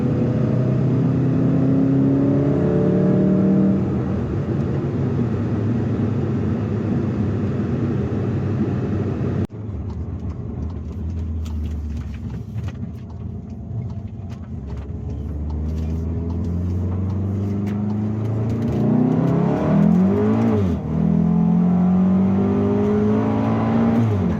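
A modified MK7 VW Golf R with an EA888 engine, IS38 hybrid turbo and port injection cruises through residential streets, its steady engine drone and road noise continuous throughout, swelling slightly near the end.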